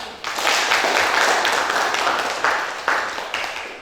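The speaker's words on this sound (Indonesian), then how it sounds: "tepuk tangan untuk kelompok 1" Classroom applause for a student group, many hands clapping together in a dense, sustained burst that swells and holds for several seconds, with a few louder claps standing out near the end.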